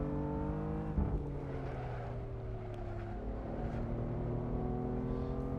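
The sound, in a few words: BMW M4 race car engine in Assetto Corsa video game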